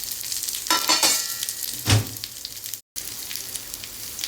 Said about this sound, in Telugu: మీడియం సైజ్ ఉల్లిపాయలు 3 వేయించేసుకుందాం